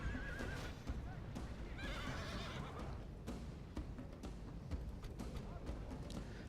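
Horses whinny and neigh amid clip-clopping hooves on a Medieval II battlefield, a loud neigh standing out early over steady battle noise and faint talk.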